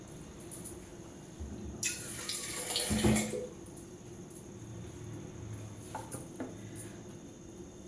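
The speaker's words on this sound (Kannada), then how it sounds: "ನಮಗೆ ನೀರು ಎಷ್ಟು ಬೇಕು ಅಷ್ಟು ಹಾಕೊಳ್ಳೋಣ ಇವಾಗ ರಸಮ್ಗೆ" Water being poured into a pot of rasam in a home kitchen, a splashing pour of about a second and a half, close and moderately loud, fading to quiet with small clinks afterward.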